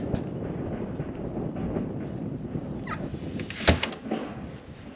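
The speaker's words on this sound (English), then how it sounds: "got a storm coming in, so sorry about the wind." Gusty outdoor wind buffets the microphone as a storm approaches a chicken pasture, a steady broadband rumble with a sharper bump near the end, no talking.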